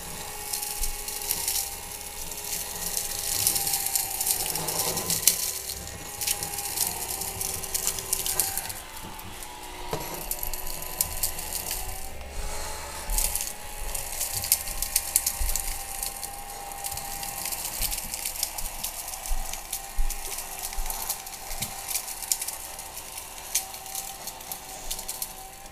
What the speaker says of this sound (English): Vacuuming, you can see all that.